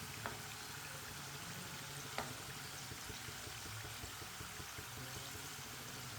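Chicken rolls fry in oil in a pan with a soft, steady sizzle and a couple of faint clicks as they are turned, no voices.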